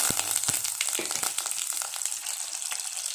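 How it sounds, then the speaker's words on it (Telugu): Ghee sizzles and crackles steadily up close as garlic and curry leaves temper for mango dal, with a few sharp pops early on, continuous and fairly soft. "మామిడికాయ పప్పు తాలింపు వేసుకుంటున్నాను."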